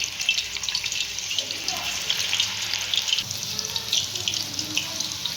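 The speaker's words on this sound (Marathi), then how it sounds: "आता आपण याच्यामध्ये डायरेक्ट चिप्स टाकून घ्यायचे" Slices of raw banana are dropped into hot oil and fry with a steady, bright crackling sizzle, close and continuous, with a few small pops.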